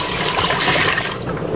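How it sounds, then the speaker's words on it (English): Two cups of water poured into a mauby bark mixture, giving a steady close splashing pour that runs continuously and eases slightly near the end. "I'm gonna be adding another 2 cups of water there"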